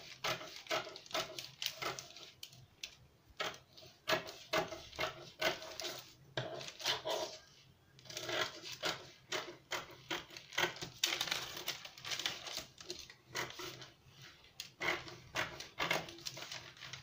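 Scissors snip through a traced paper cape pattern in repeated close, crisp cuts and rustles, arriving in irregular bursts with short pauses between them, with no speech.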